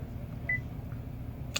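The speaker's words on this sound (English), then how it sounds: "and you'll hear a beep" A single short, clear electronic beep from a 2015–2016 Cadillac Escalade confirms an oil life reset. It sounds near and fairly soft over a low steady cabin hum.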